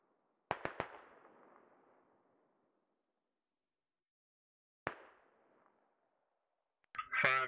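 Artillery fire in the military shooter game Squad: a quick cluster of sharp booms rolling into a fading echo, a lone blast several seconds later, then a final burst of noise at the end.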